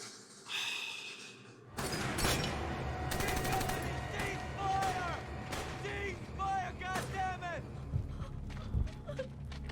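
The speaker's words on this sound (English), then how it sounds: "And now they're just shooting everybody." Heavy gunfire from the World War II TV series The Pacific, Okinawa episode: booming shots and rattling bursts crowd the scene, mixed with distant shouting and cries.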